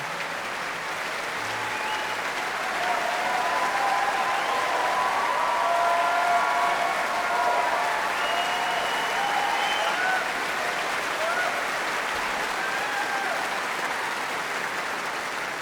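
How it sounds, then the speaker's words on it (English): A large concert-hall audience at the Doctor Who Prom 2013 applauds an early companion actor, a sustained, even roar of clapping that runs unbroken with no talk over it. "Now, applause for another early companion"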